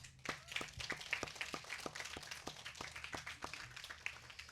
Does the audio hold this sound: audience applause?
yes